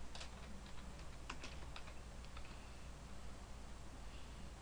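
A short burst of quiet, close typing on a computer keyboard enters a command, with light irregular key clicks over a faint steady hum.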